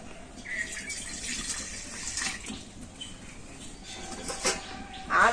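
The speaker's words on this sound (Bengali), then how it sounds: "প্রথমে কড়াতে যে জলটা আমি এই বোতলটার মধ্যে ভরে নিয়েছিলাম এই জলটা কড়াতে আমি দিয়ে দেবো" Water poured from a bottle into a wok makes a soft, continuous splashing trickle for several seconds, fairly quiet, ending in a brief louder burst; no voices.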